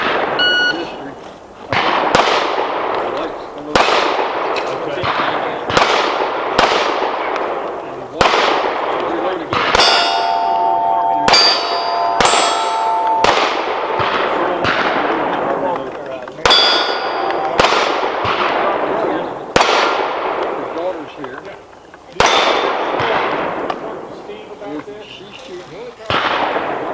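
Pistol shots in a Steel Challenge action pistol match, ringing off steel targets as a rapid series of sharp bangs and metallic clangs in uneven strings across the stage, loud and close, with people talking now and then.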